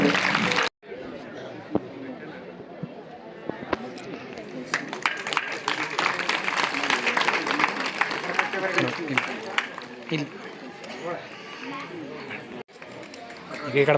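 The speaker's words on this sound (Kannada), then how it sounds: "ದಯಮಾಡಿ ಚಪ್ಪಾಳೆ ಎಲ್ಲರೂ ಚಪ್ಪಳೆ ಬರಬೇಕು" A crowd claps at a felicitation ceremony during a Maha Shivaratri religious event. The scattered, uneven clapping builds in the middle and sits under ongoing talk and chatter, with brief gaps at the start and end.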